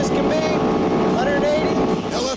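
A Lexus LFA supercar holds full throttle in top gear, sixth, its engine roaring loud and continuous at high speed with a steady pitch that sweeps gently, a voice talking over it.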